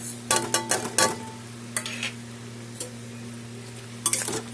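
Ridge gourd cooked with poppy seed paste and sugar is stirred in a pan, a low steady sizzle under a cluster of quick spoon scrapes and clinks, then quieter stirring and a final burst of scraping.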